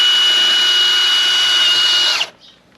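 A power drill bores holes for fitting a BKD exhaust spoiler. A loud, steady high whine holds for about two seconds, then cuts off abruptly and winds down to quiet.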